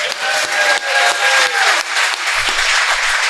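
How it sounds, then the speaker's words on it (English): An audience claps for a podcast guest, a short, loud burst of dense applause with a faint thump near the end. "Let's give him a round of applause"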